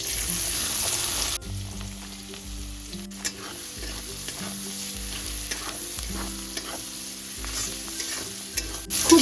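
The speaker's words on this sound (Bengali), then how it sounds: "ফোড়নটা ভাজা হয়ে গেছে ফোড়নের থেকে সুন্দর গন্ধ বেরিয়ে গেছে এবার আমি দিয়ে দেব কুচানো পেঁয়াজ" Chopped onions sizzle steadily in hot oil over whole-spice tempering for a yogurt chicken dish, with repeated scraping strokes of a spoon stirring the pan, close and continuous throughout.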